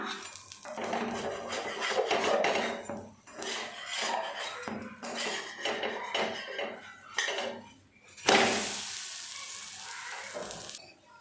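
An adai dosa being flipped on a pan: a busy run of metal spatula scrapes and clanks against the pan, then a louder burst of sizzling after the turn, close up with no voices.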